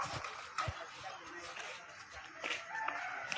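Faint clucking from chickens in the distance, mixed with soft rustling and murmured voices nearby.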